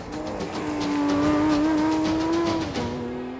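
A sports car accelerates on a rough-terrain obstacle course, its engine pitch climbing steadily and loudly before dropping as the driver lifts off.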